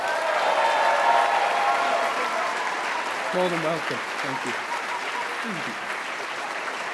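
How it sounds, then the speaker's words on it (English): Crowd applause for a charity at a convention closing ceremony, a broad, sustained wash of clapping that gradually eases, with a person speaking briefly over it midway. "So, big round of applause for our charity, everyone."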